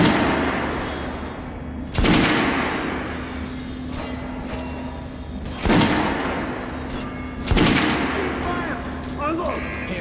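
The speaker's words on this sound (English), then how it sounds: "Head over to my range and try out those guns." Guns fired at a shooting range in the game Metro: Last Light, with three loud, sharp blasts spaced a few seconds apart over a steady low hum and background chatter.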